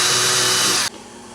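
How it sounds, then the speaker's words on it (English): A power drill boring an indexing-pin hole into a Guild JF65-12 guitar fretboard whines loud and steady, then cuts off abruptly, leaving quiet room tone. "drill one there, and drill one down here on the opposite side"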